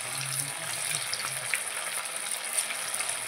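Large chicken pakora pieces without egg or yogurt frying in hot oil, a steady bright hiss and crackle of sizzling throughout.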